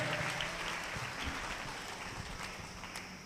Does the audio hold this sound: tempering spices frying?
no